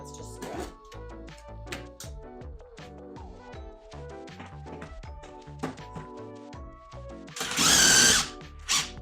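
A power drill bores a pocket hole through a Kreg 720 Pro jig, whirring in several short bursts of varying pitch near the mic, ending in one loud sustained run; someone talks between bursts.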